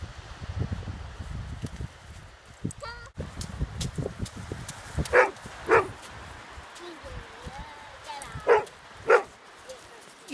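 A dog barks in several short, sharp bursts during a stick-throwing game outdoors near a beach, with rustling and a faint voice in the background.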